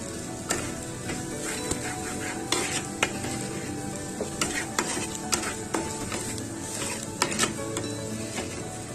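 Masala and crushed black pepper sizzle steadily in a pan for a karimeen pollichath dish, while a spoon scrapes and taps against the metal in frequent close strokes.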